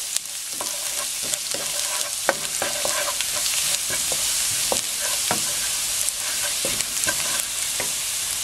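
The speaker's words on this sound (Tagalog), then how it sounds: "then dito ilalagay natin itong garlic. Minced garlic. Okay. Isosote natin." Minced garlic sautés in a pan, producing a continuous close sizzle broken by frequent sharp clicks and scrapes of a spoon against the pan.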